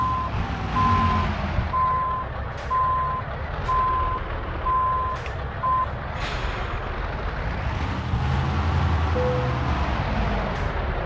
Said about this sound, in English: We've done it as soon as I heard the beep.